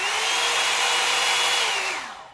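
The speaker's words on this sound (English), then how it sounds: "I use this Revlon One Step Styler. So this is basically a hairdryer." A Revlon One Step Styler hairdryer brush blows loudly and close, a steady high-pitched motor whir and airy rush lasting about two seconds before winding down.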